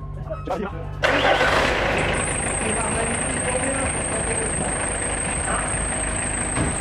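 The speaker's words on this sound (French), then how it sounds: "tu démarres la voiture, on va vous faire écouter le bruit" A car engine cranks and catches, then idles roughly while a thin, piercing high-pitched whine, suspected from the damper pulley, rings steadily above the rumble.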